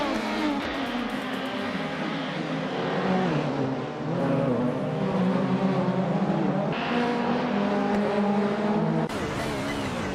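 Race cars, including a 1993 Toyota Carina eGTI, lapping in a racing game, engines droning and shifting pitch as they accelerate and pass, steady and fairly close throughout, with a voice commentating over them.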